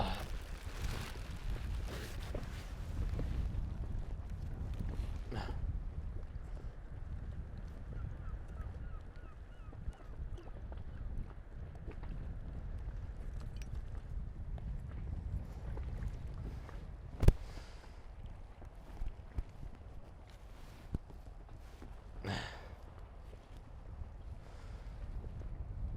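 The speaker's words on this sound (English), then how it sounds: "Apart from the fact that you're in a moving dinghy" A moving dinghy on the water in wind, with continuous rumbling wind buffeting and water wash throughout, an occasional sharp knock, and no talk.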